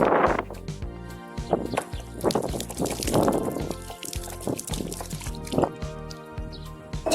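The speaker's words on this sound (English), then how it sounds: "Pour water through the lid." Water pours and drips through the lid of a plastic bottle hung on a pole as an outdoor hand-washing station, with uneven trickles and splashes continuing under a voice speaking over lively background music.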